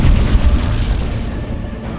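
Artillery booms in Age of Empires 4 battle scene, one loud deep blast at the start followed by a rumbling, fading decay with further distant thuds.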